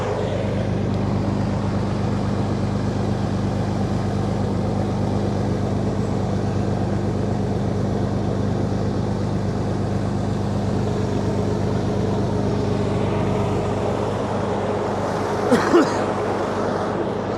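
Steady low engine rumble of a truck being pulled out of a celery field with a Nilight kinetic recovery rope, holding constant and loud before a brief jolt near the end.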